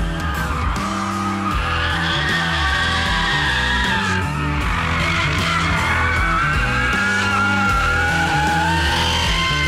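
A BMW M3 drifts on a race track with continuous loud tire squeal over a revving engine, the screech rising and falling as the car slides through corners.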